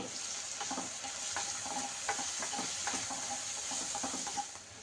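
Chicken with gongura leaves fries in a covered pan, giving a steady, even sizzle with scattered faint pops and clicks throughout.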